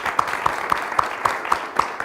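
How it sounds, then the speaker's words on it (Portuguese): Audience clapping together in steady, rhythmic unison, a sharp regular beat of claps about four per second over a broad wash of applause, with no talking. "Queria uma salva de palmas para os dois."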